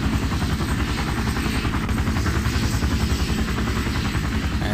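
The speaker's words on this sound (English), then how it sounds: "you can see the propeller spinning and the sound effects" Continuous rapid thudding whir of a modded Minecraft helicopter's spinning propeller, a steady pulsing rotor chop with a buzzing engine tone underneath, loud and close, with no speech.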